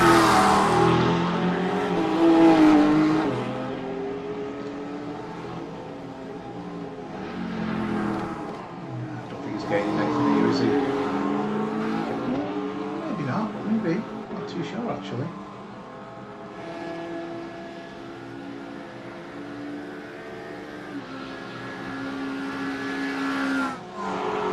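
Race cars, including a Lamborghini, Ferrari and Porsche, lapping the Bathurst circuit in a racing video game: engines rev and rise in pitch through gear changes, passing cars surge in and out, with someone talking over them.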